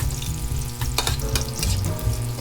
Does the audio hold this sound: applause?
no